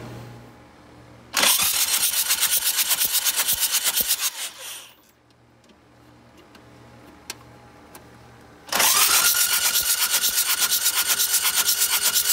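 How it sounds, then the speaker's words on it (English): A Toyota FJ40 diesel engine cranks over with a fast, loud, rhythmic starter churn for about three seconds, fades to near quiet, then cranks again strongly from around nine seconds to the end, all close up without talk. "we're gonna crank the engine over, purge the cylinders"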